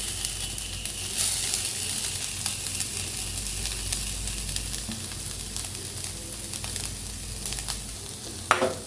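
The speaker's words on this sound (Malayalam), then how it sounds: "അപ്പോൾ 400 ഗ്രാം തേങ്ങ ചിരകിയത് ഇതിലോട്ട് ചേർത്ത് കൊടുക്കാം." Grated coconut, about 400 grams, fries in hot coconut oil over a low flame with a steady, even sizzle. Light stirring scrapes sound now and then, and a brief clatter comes near the end.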